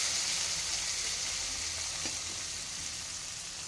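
Salted potato pieces fry over a low gas flame, a steady soft hiss of oil with faint stirring movement, short and unbroken, no speech.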